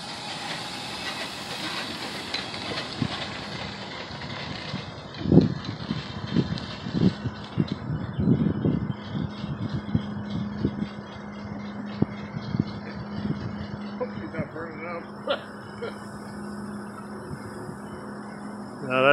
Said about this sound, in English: The steam coming out of there might have leaks right now.